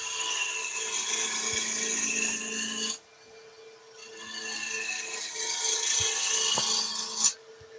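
Wood lathe spinning a turning blank while a tool shaves it ahead of cutting a tenon, a bright scraping whir in two long passes broken by a short pause, close and steady.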